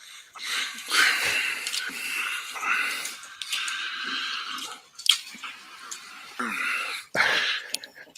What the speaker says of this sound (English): Sounds like all he's doing is heavy breathing.